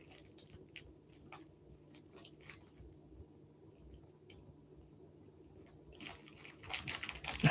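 Someone chewing a crunchy snack close up, with repeated soft crunches and bites spread through the stretch and a louder burst of crunching near the end, over a low steady background hum.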